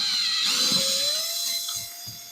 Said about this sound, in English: we will just drill the holes for this